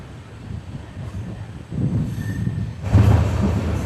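A passenger train on an electrified line running through a small railway station without stopping, a steady rumbling roll of wheels on track heard from on board, swelling louder and rougher near the end.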